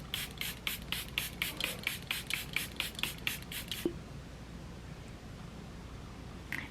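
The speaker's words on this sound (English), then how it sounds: "the Charlotte Tilbury Airbrush Flawless Setting Spray" A rapid series of about fourteen short hissing bursts of Charlotte Tilbury Airbrush Flawless Setting Spray, evenly spaced and close, then the spraying stops and near silence follows.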